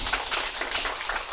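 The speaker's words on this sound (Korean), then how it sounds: "다시 한번 큰 박수 부탁드리겠습니다." Applause from an audience at a public debate forum in Hwaseong, a dense steady patter of many hands clapping through the short stretch, with no talking over it.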